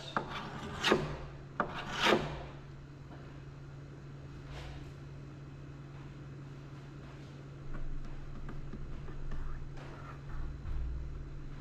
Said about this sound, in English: Scrape off all the excess.